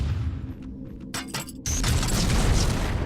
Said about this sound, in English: Cluster bombs.